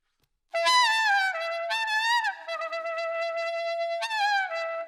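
A saxophone tone starts abruptly and cracks upward into thin, squeaky high partials, wavering between pitches and briefly popping into a higher note near the end.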